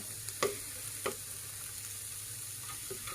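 Chilies, garlic and shallots roast in a covered hot pan, hissing quietly with a steady low sizzle and a few sharp ticks and pops from stirring.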